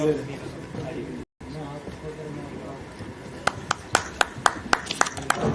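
Talk at a national engineering convention fills the first half, then a handful of sharp, separate claps ring out near the end, a sparse start of applause.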